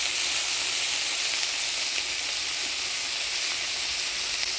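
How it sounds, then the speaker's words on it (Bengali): Onion, garlic and green chili frying in a pan with shrimp paste give a loud, dense, continuous sizzling hiss that stays even from start to finish, with no talking. "পেঁয়াজ, রসুন মাছের সাথে ভালো করে ভেজে নেব।"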